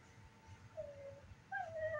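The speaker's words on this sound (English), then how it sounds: "Oh my god, a dog!" Injured dog whimpering in the video game Resident Evil 4, thin high whines rising and falling in a couple of drawn-out cries over a low ambient game background.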